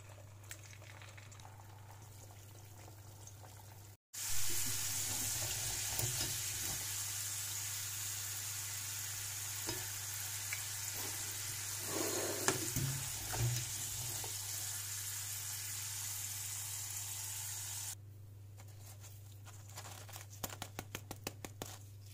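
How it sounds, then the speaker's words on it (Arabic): Potatoes deep frying in hot oil over medium heat, a steady loud sizzle and crackle with bubbling bursts, continuous and close, no talking. "هقلي البطاطس في زيت ساخن على درجة حرارة متوسطة لحد لما ياخد لون ذهبي"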